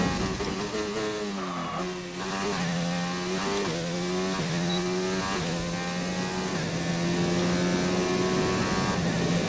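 A Renault Formula 1 car in a racing video game screams along with a high, buzzing engine note. The pitch rises and falls through the gear changes, loud and continuous.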